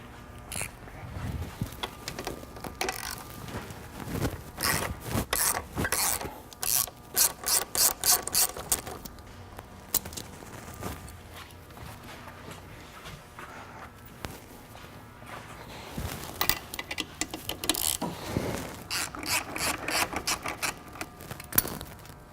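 Hand tools work on a new Honda motorcycle's suspension linkage with 17 and 19 millimetre bolts, giving irregular ratchet clicks, metallic scraping and rubbing, with bursts of rapid clicking and handling noises close by and no talk.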